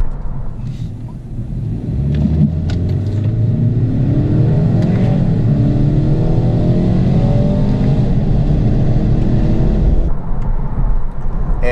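A 2017 BMW 430i revs up and accelerates hard in a 0-60 run, a loud rising roar that climbs steadily for several seconds, with a shift near the end.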